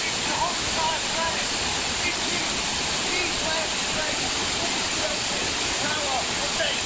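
Waterfall on a Tannahill walk in Scotland, crashing down between rocks in a dense, steady roar of white water, loud and close, with no break across the whole stretch.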